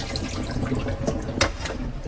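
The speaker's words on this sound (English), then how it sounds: "You rinse it off first." Tap water streams over raw chicken being rinsed in a sink, a steady close splashing hiss with a couple of brief louder splashes, no voices over it.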